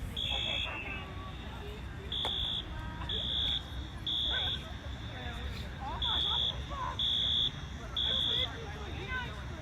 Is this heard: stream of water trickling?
no